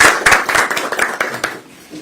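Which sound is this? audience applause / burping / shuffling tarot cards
audience applause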